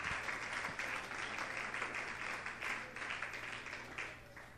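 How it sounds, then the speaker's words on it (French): A church congregation applauding and clapping together in praise, a sustained even wash of many hands at moderate distance, continuing for several seconds without a break. "Acclamons très fort le Seigneur."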